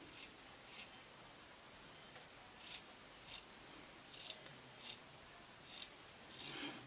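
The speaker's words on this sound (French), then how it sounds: "Et maintenant, on va découper des cercles." Scissors snipping circles from a folded wipe, a series of soft, close, irregular cuts spaced about a second apart against a quiet hiss, with no talking.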